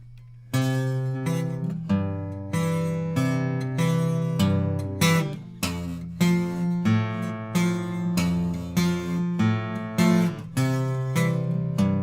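An eight-bar bass line played slowly on guitar with added notes, a series of plucked low notes ringing out one after another at an even, unhurried pace, clear and close with no voices.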